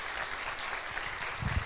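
A church congregation claps together during a sermon, steady broadband applause filling the room, with a few louder low thumps near the end.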